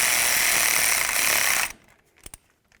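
An impact tool hammers a bolt tight on the steering knuckle of a 1999-2007 Ford Super Duty F-250, a loud burst of rapid rattling for under two seconds, then a few faint clicks.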